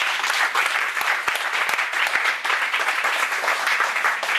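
Church congregation at a Sunday worship service applauding, a full, steady, loud round of clapping from many hands without pause.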